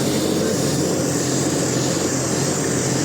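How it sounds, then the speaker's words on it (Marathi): Tractor engine labouring uphill on a road to a hilltop temple, a steady loud drone with heavy rumble and broad roar, constant throughout and close, no talking. "पहिल्यांदा असा अनुभव घेतो आहे ट्रॅक्टरमध्ये बसून डोंगर चढण्याचा"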